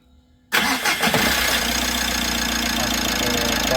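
A car engine with two drive belts removed cranks and starts, then runs steadily and loudly at idle with no other sound over it.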